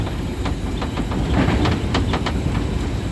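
Green Line Express passenger train running near Shahdara Bagh Junction on the Rawalpindi to Lahore route in Pakistan, a steady loud rumble with a rhythmic series of wheel clicks, heard from on board with no talking.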